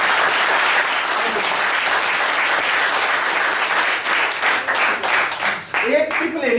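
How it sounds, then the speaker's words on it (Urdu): Loud, sustained clapping from an audience at a public speaking session, dense and steady for several seconds before thinning near the end as a voice begins to speak. "لو جی اسسٹر کے لیے ایک تالی زور سے"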